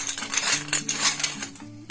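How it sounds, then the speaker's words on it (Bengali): A metal sev-making mould is opened by hand in a kitchen, producing a few close, light metallic clinks and taps of its parts against each other. "এরকম সেও ভাজার একটা মোল্ড নিব। আমি এটাকে খুলে নিই।"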